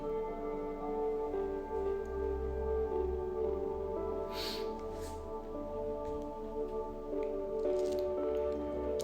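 Water is poured into a small glass, with soft wet splashing and dripping heard over a steady humming background, and no one talking.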